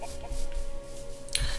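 A Minecraft chicken clucks in a few short, soft bursts over faint game background tones, with no talking.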